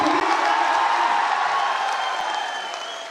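Crowd at a political rally clapping and cheering for a speech, a loud, dense roar of applause with whoops that slowly fades toward the end.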